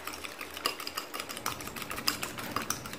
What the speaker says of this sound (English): Got to beat the egg, like punishing it.